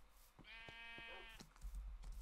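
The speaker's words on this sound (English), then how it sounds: "Stupid sheep!" A Minecraft sheep gives one clear, drawn-out bleat up close, followed by softer thumps and game noise.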